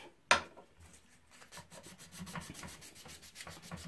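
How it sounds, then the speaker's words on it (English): Sandpaper rubs over plastic model kit parts for a MENG F350 build: a sharp scrape, then a series of steady back-and-forth strokes, close and fairly quiet. "we'll get this all smoothed off"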